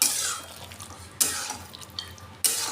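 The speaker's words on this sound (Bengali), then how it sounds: "এরপর আমি এর ওপর থেকে বাদাম আর নারকেল দিয়ে দেবো, দিয়ে এটা মিশিয়ে নেব।" Pumpkin and potato curry with peanuts and coconut stirred in a pan, a soft scraping and stirring with three distinct swishes spaced about a second apart, close up and quiet with no talking.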